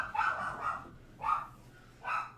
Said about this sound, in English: it's very possible that's what the dogs are barking at